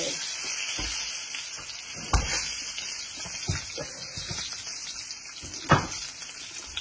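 Onion, cinnamon and bay leaves fry in hot oil with a steady, close sizzle, broken by a few sharp clatters and scrapes of stirring.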